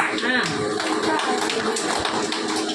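A group claps together while holding palm branches at a Palm Sunday celebration. The clapping is uneven and busy, mixed with voices and chatter.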